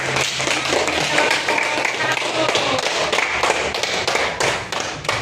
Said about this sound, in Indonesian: Ayo kita tepuk tangan untuk